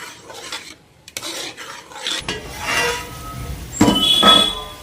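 A spoon stirs cabbage dal in a metal pot, making close scraping and rasping strokes in uneven bursts, with light clinks and a soft sizzle underneath.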